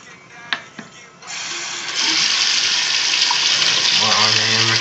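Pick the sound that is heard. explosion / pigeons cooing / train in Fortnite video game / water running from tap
water running from tap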